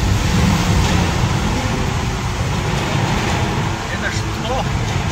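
BMW M2 and Mercedes C63 AMG engines roaring through a tunnel, a loud dense continuous drone with echoing reverberation, voices talking over it.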